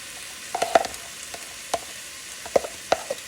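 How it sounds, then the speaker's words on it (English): Chopped onions frying in a pan with a light sizzle, marked by several sharp taps and scrapes of a utensil at uneven intervals, close and with no voices. "we're going to start adding our onions in here. Okay. Chopped onions."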